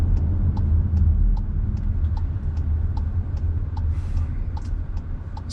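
Interior of a second-generation Volkswagen Tiguan on the move, a steady low engine and road rumble with a regular ticking, like a turn signal, clicking over it.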